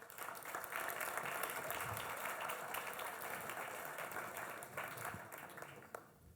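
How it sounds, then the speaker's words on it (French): Audience applause at an outdoor-activities experts forum as round-table panelists are called to the stage, a sustained, fairly distant clatter of clapping that fades out near the end. "sous vos applaudissements, s'il vous plaît"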